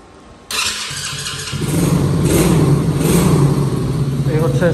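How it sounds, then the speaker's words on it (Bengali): A Mars 125cc off-road ATV engine starts with a sudden loud burst, then settles into a steady, close idle that gradually thickens, with someone talking over it. "আমি একটু স্টার্ট দিয়ে দেখাই"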